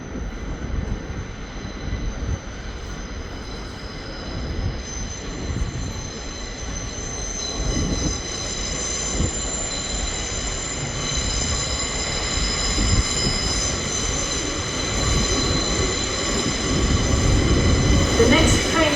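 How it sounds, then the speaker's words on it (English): An LNER train pulls into a platform at Newcastle station, a sustained rumble of wheels and engine with faint squealing tones building in loudness as it nears, with a station announcement voice heard over it. "And arriving in now is the 9:54 LNER Zoomer service to Edinburgh Waverley"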